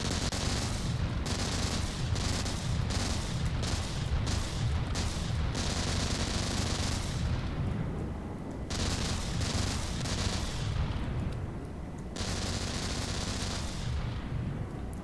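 In the game From The Depths, a 500mm advanced cannon set to max RPM fires loud, rapid barrages in long roaring bursts, with brief pauses between volleys.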